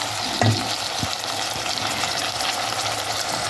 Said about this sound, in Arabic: من بعد نزيد الجلبانه متاعي ونحركها بالكدا في الكلفيحه هذيك